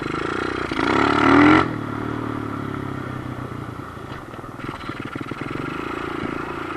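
A Kawasaki KLX110 pit bike engine revs up briefly at the start, then drops back to a steady idle with a mechanical clatter, loud and close.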